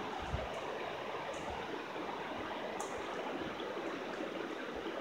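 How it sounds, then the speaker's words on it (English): A mountain trout creek flows steadily in a dense, even rush of water, close but soft, with no voices over it. "This is the creek."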